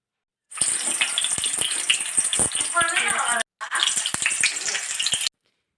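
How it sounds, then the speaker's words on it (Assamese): Onions frying in oil in a kerahi wok, a steady close hiss and crackle of sizzling broken by one short pause, with a few clinks of a utensil against the pan. "পিঁয়াজখিনি ৰংচঙীয়া হোৱালৈকে ভাজি থাকিম।"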